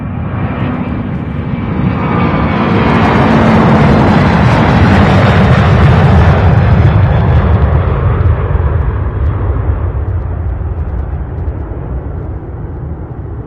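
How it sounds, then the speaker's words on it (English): A UPS MD-11 cargo jet at Louisville Worldport passes with a loud, deep engine roar that builds, peaks, then slowly fades, with rumbling low-end thunder throughout and no voices. "MD-11 here, non-stop action here at UPS Worldport"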